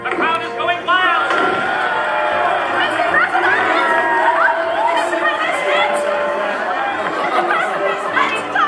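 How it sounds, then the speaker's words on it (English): A crowd greets a presidential motorcade with dense, excited chatter and scattered cheers and shouts, many voices overlapping at close range without a pause. "The crowd is going wild."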